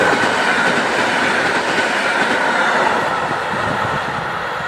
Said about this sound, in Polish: zbliża się pierwszy pociąg relacji Katowice-Żywiec. Jest to kibelek EN57